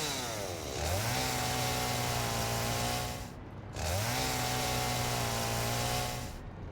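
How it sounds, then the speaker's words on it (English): A chainsaw cuts trees in the Satisfactory video game, revving up twice into a loud sustained buzzing whine, each run lasting a few seconds before dropping off. "let's get the old chainsaw out."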